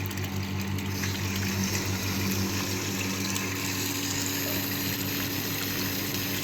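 Water running steadily through a Bernoulli's theorem apparatus, flowing via an opened valve and venturi nozzle, gives a continuous gushing, pump-like rush with a constant low hum, close and even throughout with no talking.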